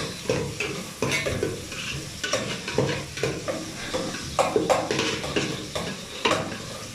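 A large batch of onions frying for beef biryani, stirred repeatedly so that metal utensil scrapes and clanks break rhythmically through a constant close sizzle, with no talking.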